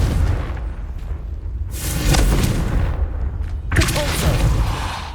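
In Hogwarts Legacy, Confringo explosive spells go off as deep, booming blasts in two or three heavy bursts over a continuous rumbling game soundscape.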